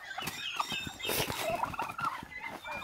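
A turkey, squaring off against a duck, gobbles in a rapid, warbling burst, close and moderately loud over a light outdoor background.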